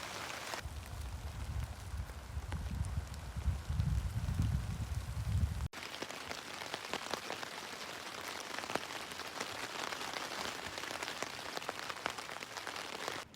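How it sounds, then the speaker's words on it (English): Steady rain patters densely in elk country during a camping trip, a constant hiss with a low rumbling undertone early on that thins out later. "the rain is finally let up"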